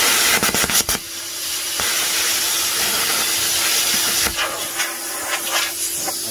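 A Tooliom 50 amp plasma cutter piercing a hole in metal, a loud, close, continuous hissing rush with sputtering crackles and bursts near the start and again toward the end.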